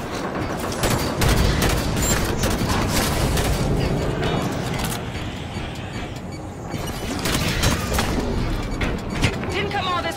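Heavy Halo 5 Guardians combat pours out sustained gunfire and booming blasts in a loud, dense, continuous barrage, with voices speaking over the chaos.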